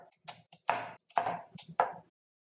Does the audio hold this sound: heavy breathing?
no